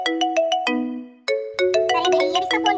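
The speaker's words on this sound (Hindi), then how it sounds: "इसका फोन क्यों आ रहा है" A phone ringtone plays loudly and clearly, a repeating electronic melody of short tonal notes with a brief pause before the tune resumes, with no talking over it.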